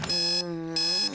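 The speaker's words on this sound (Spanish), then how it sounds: "¡Viejo, es el despertador!" An alarm clock rings loudly in two long electronic bursts with a brief dip between them, bright and insistent, close by, in a cartoon.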